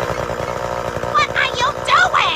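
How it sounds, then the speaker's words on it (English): A chainsaw drones loudly and continuously, close by, while people talk and shout over the engine noise. "Turn that chainsaw off!"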